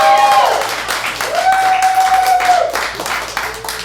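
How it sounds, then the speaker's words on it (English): Audience at an ImprovBoston improv comedy show applauding to cast a vote, a loud, steady wash of clapping throughout with a sustained whistle or whoop rising above it partway through. "Round of applause if Art is crazy."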